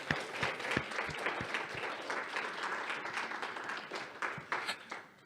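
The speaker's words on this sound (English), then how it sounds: "Another round of applause for another powerful presentation today." Audience applause follows a presentation at a mindfulness conference. It is moderately loud and mixed, with some distinct nearby claps in the first seconds, and it swells and dips before tapering off.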